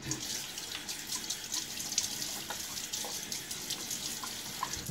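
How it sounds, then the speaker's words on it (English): Cold tap water runs steadily into a bathroom sink during a wet shave, a constant close splashing hiss with no talking. "And so this tap water is cold."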